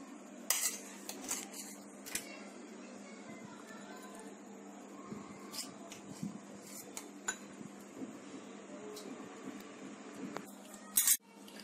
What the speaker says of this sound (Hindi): तो मैं इसे बाउल में निकाल लेती हूँ।